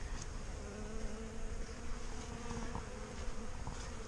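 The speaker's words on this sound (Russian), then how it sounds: "Все пчелки трудятся." Many honeybees at a spring apiary give off a dense, continuous buzz close by. It holds a steady hum with slight shifts in pitch as single bees pass, and no voices can be heard.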